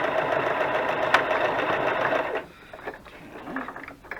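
A sewing machine stitches burlap and lace in a fast, steady mechanical whir for about two seconds, then stops, leaving faint handling noises and quiet rustling.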